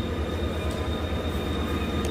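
KTX high-speed train at a station platform, a steady low rumbling hum with a faint high tonal whine, close and continuous without voices.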